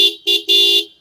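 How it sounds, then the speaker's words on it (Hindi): A 2025 Bajaj Pulsar 150 OBD2B twin-disc motorcycle sounds its dual horn in three loud, bright beeps, two short then one longer, close up with no talking. "इंडिकेटर और हॉर्न सुन लीजिए भैया"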